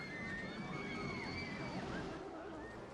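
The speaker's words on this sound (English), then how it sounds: "the flowers perk up when it rains, like it is right now in game" Steady rain falls in the Rollercoaster Tycoon 2 theme park, a soft, even wash of hiss and sloshing with a few faint whistling tones above it, continuous and fairly quiet.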